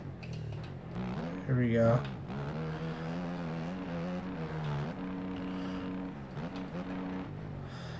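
In a racing video game, a car engine sits on its rev limiter, giving a steady droning whine with a brief rising flare. A person speaks over it.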